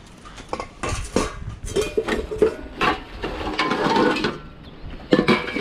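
A stainless steel pot lid is handled among other metal cookware in a dumpster setting, giving a string of close clanks, clinks and scrapes, irregular and busy throughout.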